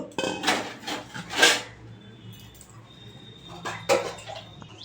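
A metal basin being picked up and set down while spices are readied for steamed hilsa, making a few bright clanks and clatters close by, with quiet gaps between them.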